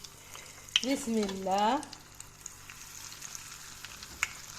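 Kebab skewers (qatban) frying in oil, a steady low sizzle with occasional faint ticks and pops, briefly under a short spoken phrase near the start, then continuing on its own at moderate distance.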